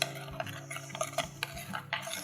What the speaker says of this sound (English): Mix all this stuff around in here a little bit.